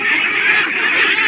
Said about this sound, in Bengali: দেখেন এই হাঁসগুলো